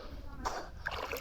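Children learning to swim in a village pond, splashing and sloshing the water in irregular bursts, with an adult voice talking over the splashes nearby.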